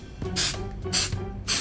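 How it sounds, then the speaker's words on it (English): Quick short bursts from a spray can, three close hisses onto a table covered in saran wrap, each lasting about a quarter second with brief pauses between. "As always, just give it a quick little spray"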